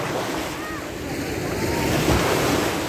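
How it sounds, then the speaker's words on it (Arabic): Sea waves on a foggy day on the coast of northern Morocco make a continuous, close surf wash, mixed with heavy wind buffeting on the microphone. "ها هو البحر كما كتشوفوا"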